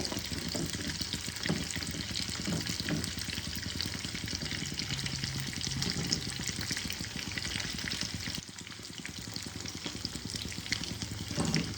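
Fish pieces for a kadhai fish recipe frying in hot oil in a pan, a steady dense sizzle and crackle that runs for the whole stretch with no talk, easing slightly toward the end.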